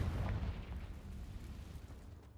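A Confringo blasting spell explodes in the Hogwarts Legacy video game with a deep, rumbling boom that rolls and slowly fades over a couple of seconds, heard alone.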